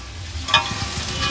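Homemade kurkure snacks deep frying in hot oil, a close, steady sizzle with a brief stirring clatter partway through, no voices.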